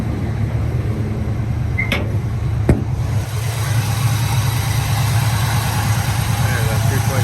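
A Chevrolet short wheel base truck's 3.7 engine idles steadily up close, a continuous low rumble with a couple of brief clicks partway through.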